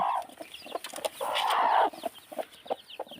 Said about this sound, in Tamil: இதுலேயும் வந்து குஞ்சுகள் பொரிச்சிருக்கு